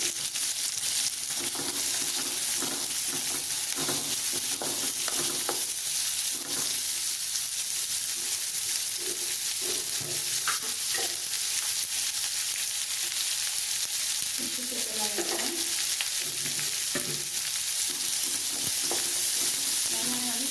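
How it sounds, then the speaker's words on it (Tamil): Onions sauté in hot oil with a sprinkle of asafoetida powder for a ridge gourd curry, giving a constant sizzle and frying hiss broken by occasional stirring scrapes and clinks, close up and without talk. "வெங்காயத்தூள் எண்ணெயோட நல்லா வணங்கி போயிடும்"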